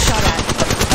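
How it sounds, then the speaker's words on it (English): Rapid automatic gunfire from the mobile battle royale Apex Legends Mobile, a loud close burst of repeating shots in a tight rhythm lasting about a second. "Getting shot at."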